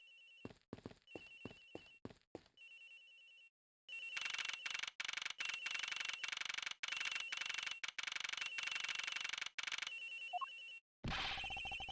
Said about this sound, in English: Like a ringing phone? Sounds like a cell phone.